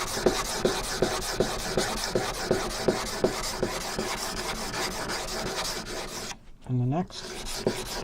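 A blade is worked across a sharpening stone in steady repeated strokes, each a short rasping rub, close and fairly loud, with a brief pause and a quick spoken phrase near the end.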